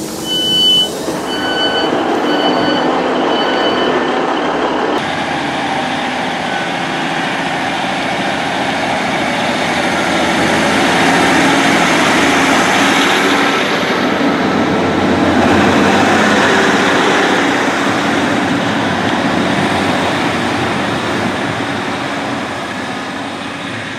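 Onboard British Rail Class 150 diesel multiple unit 150222 travelling between Barnsley and Sheffield in South Yorkshire, a steady rumble of engine and wheels on rail filling the carriage, building slightly in the middle with no speech.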